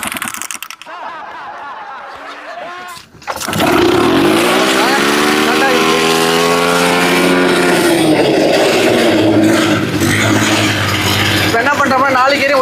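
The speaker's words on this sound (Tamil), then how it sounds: "ப்ரெப்பில் சுற்ற வண்டி ஸ்டார்ட் ஆயிரும்." A homemade paramotor's engine catches at about 3.5 seconds and settles into a loud, steady drone with a spinning propeller, close by and continuous to the end, after a brief sputter of pull-start noise.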